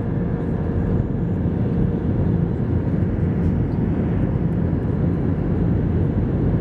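An airliner on its landing approach to Kraków fills the cabin with a continuous, even roar of engines and airflow, steady throughout with no clear speech.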